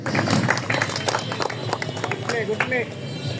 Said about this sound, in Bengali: একটা তালি হবে একসাথে